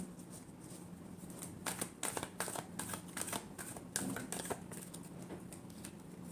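Tarot cards being shuffled for a love reading, with bursts of riffling flicks and papery slaps in uneven clusters, close and quiet, with no talk.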